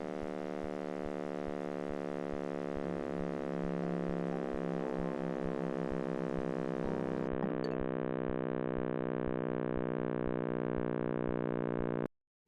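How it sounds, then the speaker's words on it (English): A steady drone of stacked harmonic tones, a sonification of Planck cosmic microwave background data, holds evenly for about twelve seconds under faint regular clicks, then cuts off abruptly. "This is the sound of the Big Bang."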